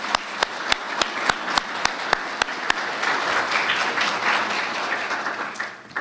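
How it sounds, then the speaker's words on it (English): Audience at a fire department awards ceremony applauding, opening with a few sharp, evenly spaced claps before swelling into a fuller round of mixed clapping that fades out. "If we can just give him one more quick round of applause."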